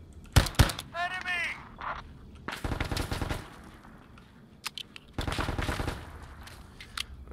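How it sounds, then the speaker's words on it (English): Enemy gunfire in the ARMA 3 video game, set in a tunnel: sharp shots, then two bursts of rapid automatic fire, loud and close, with a voice speaking briefly between them. "There's somebody trying to shoot at me"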